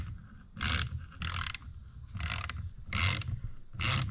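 A hand tap, worked with a ratchet, cuts threads into holes while installing paddle shifters on a 2014-or-later Mazda. Close, loud bursts of ratchet clicking come in five evenly spaced runs with short pauses between them.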